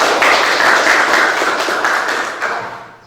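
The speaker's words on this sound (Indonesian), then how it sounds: "Kita beri tepuk tangan untuk kita." Schoolchildren clapping together in an Indonesian classroom, a close, loud burst of hand claps that fades gradually toward the end.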